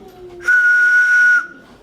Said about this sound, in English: And when it's all the way up, it whistles very high.